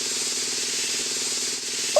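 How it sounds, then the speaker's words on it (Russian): A spray gun from a Masha and the Bear house-building and car-repair game paints over spots on a car, giving a steady, continuous hiss that holds for about two seconds at even loudness. "Теперь возьмем распылитель и закрасим пятна."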